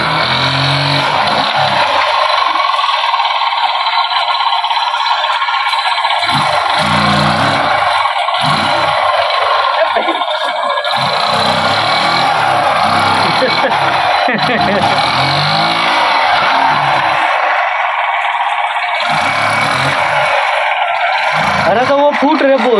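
Bajaj Platina motorbike engine revving hard during a stunt in a river, a loud continuous roar with rising and falling revs under shouting voices and rushing water.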